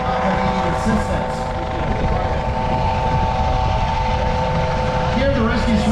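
A Coast Guard rescue helicopter hovers low over water during a rescue demonstration, its rotor thrumming loudly and continuously up close.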